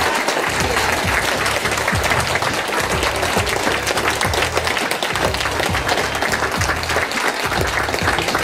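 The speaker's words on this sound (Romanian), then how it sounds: "haideți să auzim multe aplauze pentru toți" A crowd at a seniors' evening in a hotel in Iași applauds, loud, steady and dense clapping that runs the whole time without a break.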